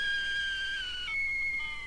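A kettle whistles on a stove, a steady shrill tone that shifts pitch partway through and keeps sounding alone, close and fairly loud.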